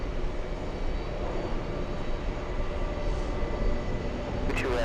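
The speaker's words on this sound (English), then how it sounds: "A 767-400 to Los Angeles." A Boeing 767-400 airliner at JFK airport roars with a steady, broad jet-engine rumble heard from a distance, holding level throughout with no speech.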